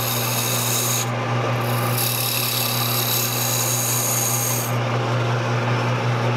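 A woodturning gouge cuts a spinning wooden piece on a lathe, giving a continuous close rasping, rubbing hiss over a steady motor hum that lasts throughout with no speech.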